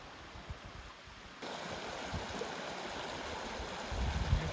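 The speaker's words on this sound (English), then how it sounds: "this cute little waterfall into this absolutely crystal clear pond" A small waterfall pours into a crystal-clear pond in the Alaskan wilderness, giving a steady, soft splashing wash that swells slightly louder partway through and again near the end, with no voices.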